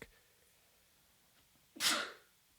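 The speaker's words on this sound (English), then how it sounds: "That was my sneeze." A single sharp sneeze bursts out close by after a quiet pause, then fades quickly.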